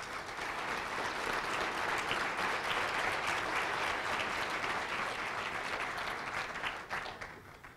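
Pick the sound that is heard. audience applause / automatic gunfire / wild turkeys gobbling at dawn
audience applause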